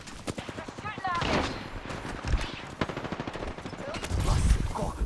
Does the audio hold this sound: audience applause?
no